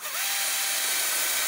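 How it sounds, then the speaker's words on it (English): A power drill bores into a wooden board for joining shelf boards, giving a brief, loud, steady whine with hiss and no speech. "now I'm going to drill the half of this length on each side"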